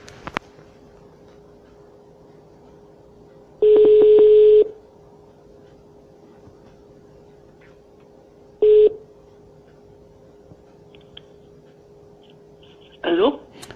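Telephone dialing tones during a live call-in show: a faint steady line tone with a few loud, brief bursts of dialed tones spaced seconds apart, ending in a short chirp.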